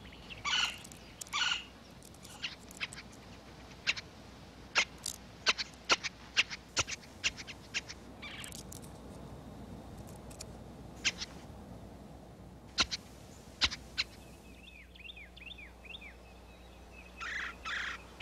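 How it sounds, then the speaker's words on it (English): Golden-fronted woodpecker calling in a wooded setting, with repeated sharp, brash calls and clicks scattered over the whole stretch, joined near the end by a faster rattling, chattering series. "like many woodpeckers, the golden-fronted can be brash and noisy"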